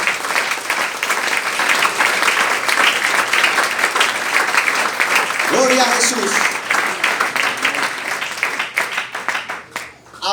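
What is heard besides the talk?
church congregation applause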